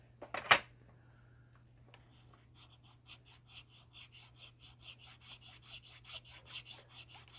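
Flat file working the metal pocket clip of a Cold Steel Voyager knife: after a sharp knock, a run of quick, evenly spaced rasping strokes builds steadily, close and clear with no voices.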